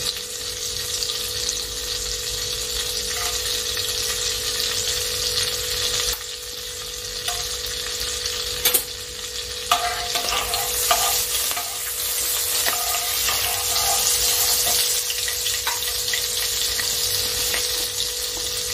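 Whole garam masala of cardamom, cloves, peppercorns and a little cinnamon fries in butter with a constant bright sizzle, broken by occasional clinks and stirring scrapes of a spoon in the pan, with no voices.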